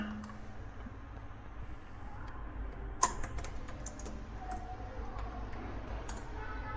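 Fingers typing Python code on a computer keyboard, a steady patter of close key clicks with one sharper clack partway through, soft and dry against a low room hum, no one speaking.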